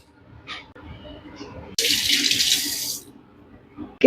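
Water poured from a small coffee tumbler into paddu batter makes a loud splashing rush lasting about a second, set between quieter kitchen clatter and faint background noise.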